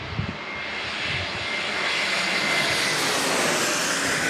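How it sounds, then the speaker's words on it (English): A Hawaiian Airlines Airbus A321neo from Honolulu at San Diego International Airport, its jet engines a rising whooshing roar that builds gradually and holds loud toward the end. "Hawaiian Airlines, A321neo from Honolulu"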